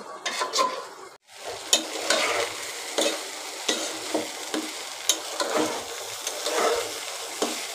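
Pulao rice is fried in a pan for biryani while a spoon scrapes and stirs it in repeated strokes, with soft sizzling underneath and distinct metallic scraping clicks nearby and no speech.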